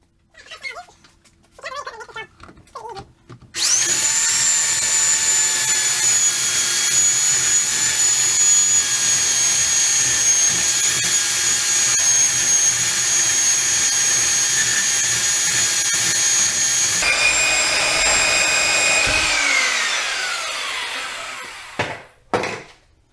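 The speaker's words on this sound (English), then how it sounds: "I ground the ears out of the way" Angle grinder cutting off the welded ears on a Toyota rear leaf-spring shackle during a body lift install: a loud, steady high whine lasting about fourteen seconds, then a pitch drop as it spins down, with short clanks before and after.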